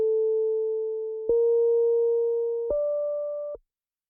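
A clean synth tone plays three sustained, slightly rising pitches of about a second each, run through an automated auto filter, then cuts off into silence.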